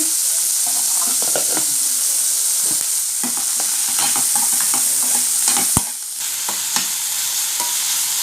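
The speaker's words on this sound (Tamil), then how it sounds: "தக்காளி கொஞ்சம் வதங்கிச்சு" Salted tomatoes sauté in a pan for a spicy kara chutney, giving a close, continuous sizzle. Frequent spatula scrapes and taps break through it, with one sharp knock near the end.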